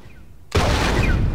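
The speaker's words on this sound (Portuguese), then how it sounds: "Tem que meter um tiro ali." A gunshot in The Last of Us video game erupts after a half-second of quiet, a sudden loud broadband blast whose roar and rumble sustain to the end rather than cutting off.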